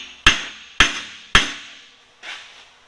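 Three sharp, ringing hammer blows drive a steel wedge tight on a roller skid before welding, followed by a softer fourth strike, each impact decaying quickly in a quiet workshop.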